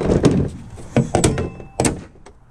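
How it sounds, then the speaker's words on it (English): Hammer blows knock a part loose from an oxygen machine being taken apart for scrap metal, giving a few sharp, loud metallic thunks at irregular intervals. "Probably bang that out with a freaking hammer"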